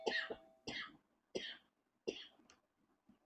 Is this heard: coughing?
yes